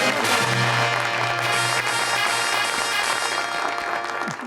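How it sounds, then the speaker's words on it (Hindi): Dense applause from a TV studio audience at an Eid-ul-Adha special show fills the whole clip, loud and steady, with a low hum underneath and no talking. "चलो भाई तालियां बजाइए इनके लिए,"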